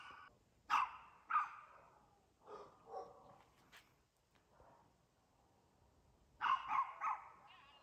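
A dog barks several times in short sharp bursts at a moderate distance, with pauses between, then a closer cluster of quick barks near the end, outdoors near a 1981 Chevy C10 being salvaged for parts.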